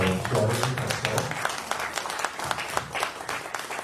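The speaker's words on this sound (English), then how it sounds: "Let's give a big round of applause to both Troy and Crystal." An audience at a startup podcast event gives applause, with scattered, uneven claps of moderate loudness that follow a brief voice at the start.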